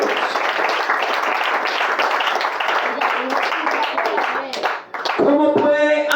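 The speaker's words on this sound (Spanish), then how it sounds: "Den un aplauso al Señor." A church congregation applauding during a Spanish-language service, dense clapping mixed with shouting voices, ending in a brief dip and then tonal cheering or singing.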